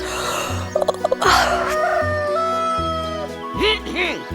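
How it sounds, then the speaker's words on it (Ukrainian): A rooster crows loudly and close by in a rural morning setting, with a couple of drawn-out crows separated by clucking and short bursts, standing clearly above a faint background. "Півнику, не будуй мене, будь ласочка."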